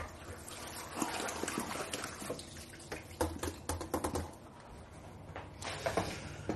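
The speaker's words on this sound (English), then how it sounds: "So yeah, we can give the potatoes a rinse." Potatoes rinsed under running water in a colander, giving a close, uneven trickle and splash with scattered clicks and knocks of the tubers shifting, steady throughout with brief louder bursts.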